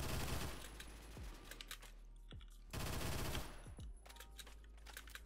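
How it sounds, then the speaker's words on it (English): Automatic gunfire in the online shooter video game Phantom Forces: rapid, loud bursts of rattling shots in a few distinct volleys, with short pauses and echoing tails between them. "Oh my god, I'm getting shot by two people."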